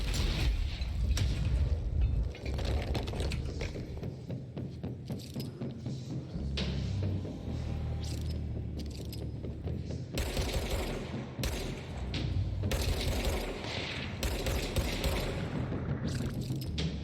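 Rocket launcher blasts and heavy gunfire in the video game Control, a dense, loud, continuous barrage of shots and explosions with mechanical clatter, no talk heard over the combat.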